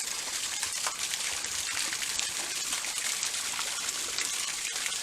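Water spurts steadily from a turtle fountain into a four-foot-deep garden pond, a continuous close splashing and trickling wash with no pauses.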